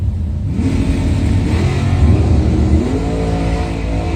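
At a Mopars Against the World drag race, a Plymouth and a 1968 Chevrolet Camaro roar loudly off the line, engines revving hard and rumbling in a sustained, close, powerful blast with no talk over it.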